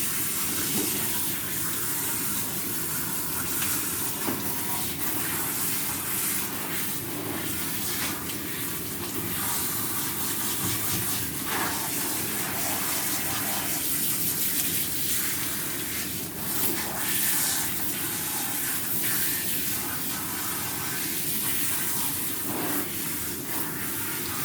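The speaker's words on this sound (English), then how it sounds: "the water is running completely clear now" Water running steadily from a tap, a continuous splashing gush with faint clatters now and then, no voices.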